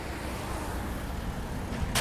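Steady road traffic with cars driving past, a continuous broad rumble and hiss at moderate loudness with no talk.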